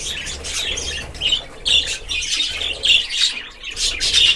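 A pet budgerigar squawks and chirps in repeated sharp bursts close to the microphone, with brief wing flutters between calls, loud and lively with no talking.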